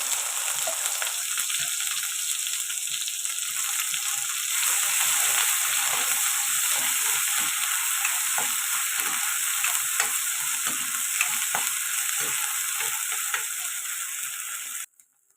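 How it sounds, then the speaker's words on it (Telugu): Masala with onion and tomato paste fries in hot oil with a loud, steady sizzle and crackle throughout, broken by occasional faint stirring scrapes, then stops abruptly at the end. "మసాలాలు ఫ్రై అయ్యాయి కదండి"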